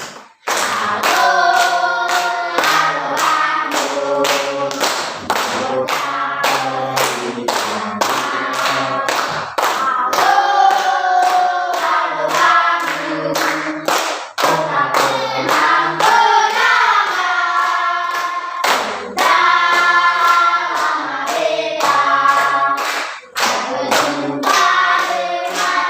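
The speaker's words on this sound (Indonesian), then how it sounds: "Ya mari kita tepuk tangan untuk anak Helen." A classroom group claps together for a student, steady dense hand clapping filling the whole stretch with brief dips, loud and close, with faint voices mixed in.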